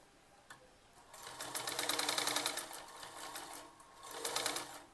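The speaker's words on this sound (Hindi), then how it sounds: "यहाँ से रिवर्स कर दो सिलाई" A sewing machine runs in close, loud bursts of rapid needle chatter while reverse-stitching a kurti seam, speeding up and slowing in two main runs.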